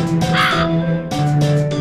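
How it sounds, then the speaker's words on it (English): Harsh crow caws from the video game A Quiver of Crows, two loud, close bursts of rough, repeated calls separated by a brief pause, with no talking over them. "He's getting eaten by a bird."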